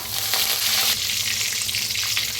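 Cumin, asafoetida and curry leaves sizzle and crackle in hot oil, a steady close frying hiss that carries on alone.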